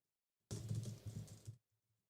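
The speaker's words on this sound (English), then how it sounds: "The tip tapping of the keyboard going." Computer keyboard typing comes as a faint, quick burst of clustered key taps lasting about a second, alone in otherwise near silence.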